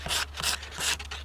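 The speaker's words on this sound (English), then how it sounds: "Fine sandpaper, going with the grain" Fine sandpaper rubbed along the grain of a wooden rake, giving three quick, even rasping strokes close up, each a soft hissing scrape with short pauses between, and no voices.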